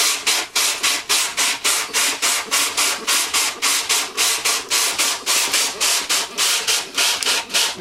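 A sanding block rubs back and forth along a parlor guitar's wooden fretboard in a steady rhythm of about three loud, close, raspy strokes per second, with no voices.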